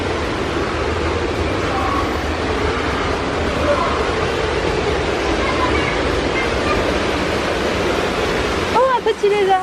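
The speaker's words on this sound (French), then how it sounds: "Je pense qu'on est déjà arrivé à la chute." A waterfall in Martinique roars as a loud, dense, continuous rush of falling water heard up close. A voice breaks in briefly near the end.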